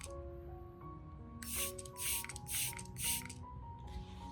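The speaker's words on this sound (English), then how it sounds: "Misting is something I absolutely love. It feels like giving the plant a refreshing spritz." Four short airy spritzes from a spray bottle misting an orchid, evenly spaced and close, followed by a softer fifth burst over a quiet background hum.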